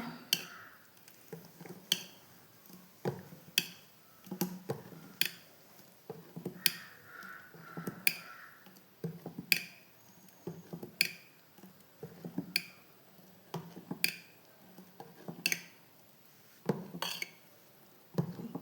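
Ground halwa mixture of almonds and dates is stirred in a bowl with a utensil, giving regular clinks and soft wet scrapes that repeat every second or two, close and fairly quiet, with no talk.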